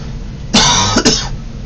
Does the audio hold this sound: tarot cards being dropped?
no